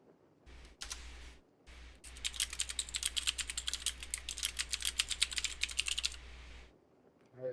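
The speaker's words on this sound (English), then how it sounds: "so I can hear your keyboard" Fast computer keyboard typing, a dense run of close, crisp key clicks that stops and starts, with a steady low electrical hum below.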